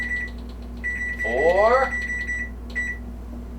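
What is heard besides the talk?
oven timer beeping as it is set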